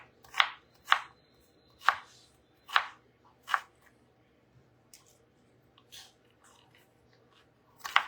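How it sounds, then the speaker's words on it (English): A knife chops through an onion on a cutting board in a home kitchen, with five crisp, evenly spaced strokes, a few fainter taps after a pause, then one more sharp cut, all close and clear. "we're just cutting up our onion"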